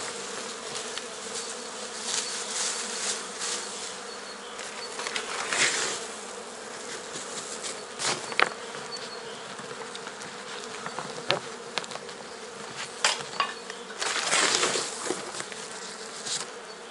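Honey bees swarm and buzz around small nucleus hives at a Carpathian apiary in late winter, a steady close drone with brief louder passes as individual bees fly near.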